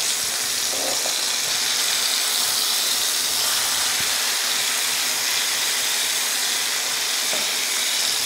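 Chicken tangri kabab (drumsticks) frying in a pan, a continuous loud sizzling hiss with faint scraping as the pieces are turned.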